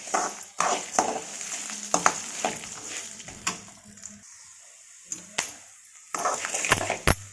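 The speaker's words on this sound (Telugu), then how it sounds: "కొంచెం చింతపండు వేసుకోవాలి. కొంచెం సాల్ట్ వేసుకోవాలి. ఒకసారి కలిపేసుకోవాలి." Tamarind and salt being stirred into a garlic mixture in a kadai for homemade curry leaves powder: a spoon scrapes and clatters against the pan in irregular strokes over a faint sizzle, with short quiet pauses between bursts.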